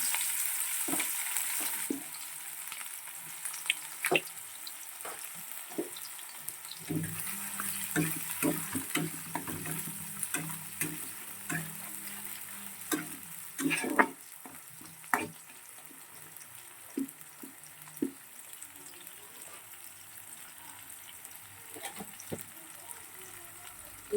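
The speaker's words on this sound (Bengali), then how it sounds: "গোটা এলাচ, গোটা লবঙ্গ আর দারচিনি, আর এদিকে গোটা শুকনো লঙ্কা পেঁয়াজ কেটে আমি দিয়ে দিলাম" Sliced onion frying in oil with whole cardamom, cloves, cinnamon and dried chilli, a soft steady sizzle with scattered stirring clicks and utensil taps, fairly quiet throughout with no speech.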